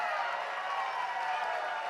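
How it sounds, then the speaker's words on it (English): A convention audience at HowlerCon 2023 howls and cheers, making a steady wash of crowd noise heard from a distance at moderate volume. "can we give them a howl?"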